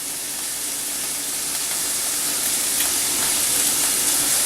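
Onion sizzling in a hot pan over a high flame while cooking cabbage pasta: a loud, continuous broadband hiss that grows slightly stronger toward the end, with no voices.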